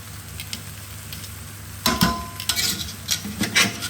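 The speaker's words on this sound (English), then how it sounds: "I'm going to quite gently move the pasta around" Pasta being gently stirred in a hot pan with tinned salmon chunks, spring onions and herbs: a steady low sizzle, then several close scraping and clinking utensil strokes against the pan in an uneven rhythm.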